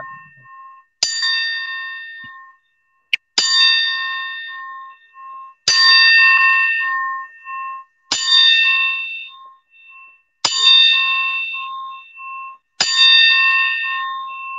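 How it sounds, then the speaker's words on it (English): A timekeeper rings a ten bell count at a live debate event: single clear metallic bell strikes spaced about two and a half seconds apart, each ringing out and decaying, with quiet between them. "grace us with a 10 bell count"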